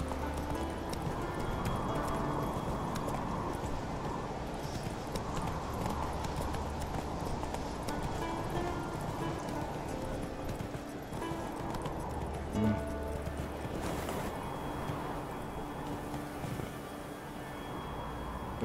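Roach the horse galloping in The Witcher 3: Wild Hunt, a continuous rhythmic clip-clop of hooves with a steady pace, close and moderately loud, without speech.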